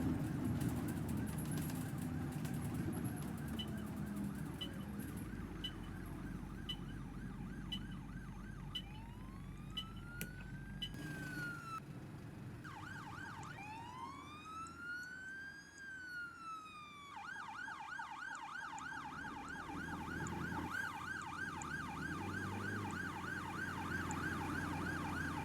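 An ambulance siren from the OMSI 2 bus simulator game wails and yelps in rising and falling sweeps, fairly prominent over a steady bus engine drone with other road noise.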